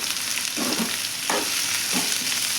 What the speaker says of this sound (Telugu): కొద్దిగా ఫ్రై చేద్దామండి దీన్ని.